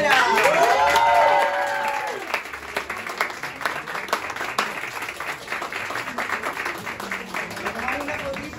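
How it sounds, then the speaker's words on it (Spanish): An audience breaks into applause for Joaquín Vera, a dense, steady clapping that carries on for several seconds after a short swell of voices at the start. "Quiero un fuerte aplauso para Joaquín Vera."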